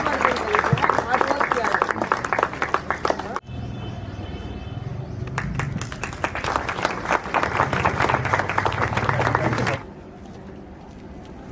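An indoor audience claps steadily and enthusiastically for a child's painting, a dense, sustained round of applause that pauses briefly midway, resumes, then drops to quieter room tone near the end.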